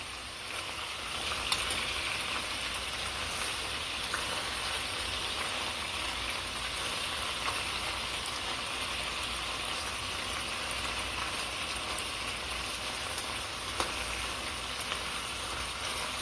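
Pork browning in a pot for Haitian stewed pork, a steady soft sizzle and crackle that carries on evenly with faint pops and no talking.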